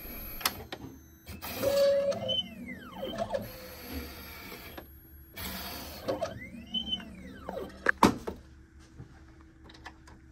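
An optical lab machine processes an eyeglass lens with a Transitions XTRActive coating, giving whirring mechanical runs, rising and falling motor sweeps, and sharp clicks, repeating in two similar cycles at moderate volume.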